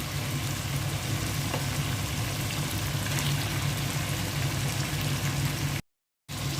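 Chicken pieces for a country chicken curry frying in a pan after tomato sauce, a steady close hiss and sizzle running unbroken before a brief cut to silence near the end.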